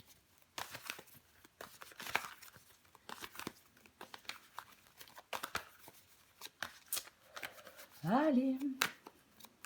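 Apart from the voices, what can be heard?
tarot cards being shuffled and turned over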